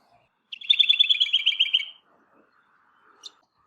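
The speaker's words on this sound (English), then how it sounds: "Honey eater." A honeyeater in a suburban front garden calls with a bright, rapid trill lasting about a second and a half, followed by a few faint, scattered notes and one brief high chirp, heard alone against a quiet background.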